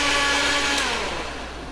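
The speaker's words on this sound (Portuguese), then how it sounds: "Um barulho, hein? Esse liquidificador." Loud, steady whir of a kitchen blender making a smoothie, a continuous motor roar that begins to slacken and fade slightly toward the end, with no talking over it.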